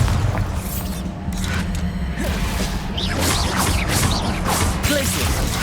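Bombarda spell explosion in the Hogwarts Legacy video game on PC, a loud booming blast followed by crashing debris and whooshing effects amid a dense rumble of combat sounds, with no talking.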